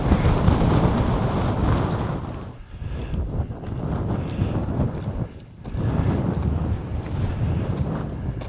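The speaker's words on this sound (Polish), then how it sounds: "Ale wiatr." Loud, roaring wind buffets the microphone in strong gusts on the summit of Resegone, an Italian mountain above Lake Como, easing briefly twice before blasting again.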